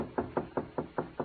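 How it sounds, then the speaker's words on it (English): A radio drama sound effect of knocking on a door: six evenly spaced, moderately loud raps in a steady rhythm, close by, with no voices over them. "I was in my room when there was a knock on the door."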